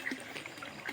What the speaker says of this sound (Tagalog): puno na gid siya tubig no, gapang lapaw na dito dito.